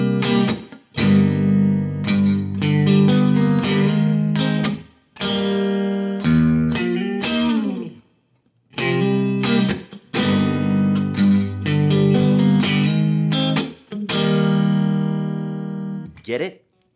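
Electric guitar plays a riff with slides and double stops on the middle strings, repeating in sustained phrases separated by short gaps.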